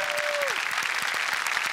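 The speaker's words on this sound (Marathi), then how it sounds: "जोरदार टाळ्या झाल्या पाहिजेत" A studio audience at a Marathi comedy show breaks into steady, dense applause that fills the room with continuous close clapping, a short tone sliding down at the start.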